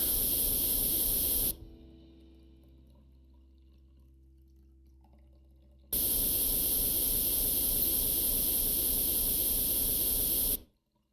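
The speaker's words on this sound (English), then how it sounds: "Actually, I don't know why I'm spraying it green." A loud, steady hiss of spray paint coating a Tiger tank during restoration in Tank Mechanic Simulator, in two long continuous bursts separated by a stretch of quiet low hum and faint clicks.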